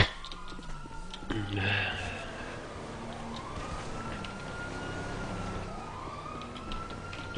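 Wailing police car sirens sweep up and down in Grand Theft Auto V as two cruisers give chase, a steady rising and falling tone over game engine and traffic noise, with a brief voice near the start.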